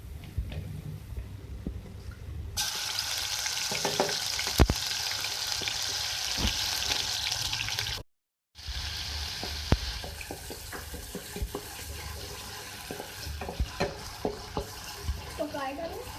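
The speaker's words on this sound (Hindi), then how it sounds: "मैंने इसमें ऑयल ऐड किया। मैं डाल रही हूँ लहसुन अदरक का पेस्ट।" Garlic ginger paste frying in hot oil in a pan for fish karahi, giving a steady, fairly loud sizzle and crackle with brief stirring clinks and a short break midway.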